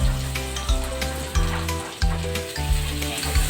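Caramelized onions and freshly added tomatoes sizzle loudly in a pan for pork binagoongan, a close, continuous frying hiss broken by periodic stirring scrapes.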